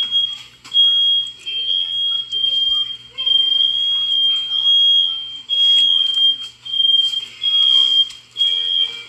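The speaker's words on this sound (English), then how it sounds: "The alarm's still going." A smoke alarm sounds a steady high-pitched tone that repeats in pulses throughout. People talk and move around it.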